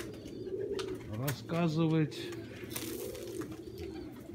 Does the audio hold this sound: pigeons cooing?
yes